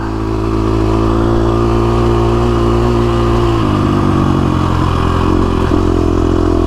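A KTM 350SX-F dirt bike, a supercross machine set up for desert racing, drones loudly and continuously as it climbs a hill, its engine note shifting partway through the pull.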